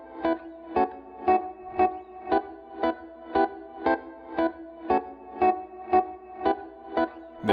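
A trap hip hop beat loop played on reMIDI 2, a steady pulsing pattern of bright, effected notes repeating about every half second, with a thin low hum underneath throughout and no voices.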